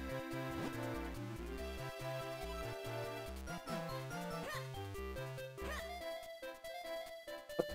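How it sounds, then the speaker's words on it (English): Repeated chiptune dog barks and yips from The Legend of Zelda: The Minish Cap on the Game Boy Advance ring out over looping game music, clear and upfront. "The house is being blocked by the dog"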